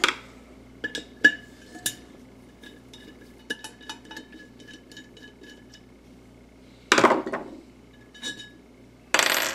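Screws are removed from the top of a Thunderbolt siren, with small scattered metallic clicks, taps and light clinks close by, plus a few louder rattling scrapes.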